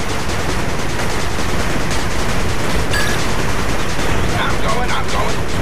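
Units in the real-time strategy game 8-Bit Armies firing guns continuously, a loud, dense, unbroken rattle of rapid automatic gunfire lasting several seconds, with a brief higher-pitched burst in the middle.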